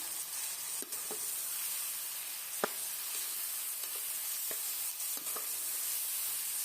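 Medium tomatoes dropped into chicken frying in a pan for chicken pulao, giving a steady sizzle with a few sharp stirring clicks and scrapes scattered through.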